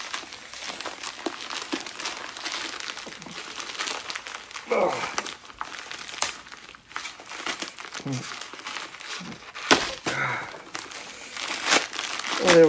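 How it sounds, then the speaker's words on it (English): A paper mailer package is torn open by hand, giving a steady run of close crinkling, crumpling and ripping paper with sharper tears scattered throughout, and a voice speaks faintly at times. "I'm going to try and rip this open without using a tool"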